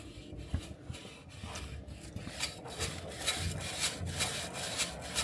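A brush scrapes and rubs inside an old stove's chimney flue as it is cleaned from above, giving steady rasping strokes that repeat in a fairly even rhythm, close and moderately loud.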